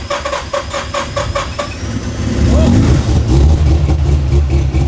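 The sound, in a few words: Mazda RX8 rotary engine starting and running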